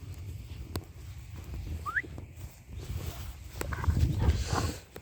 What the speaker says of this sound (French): vous voyez un petit sifflement et ça, c'est un petit rappel d'approximation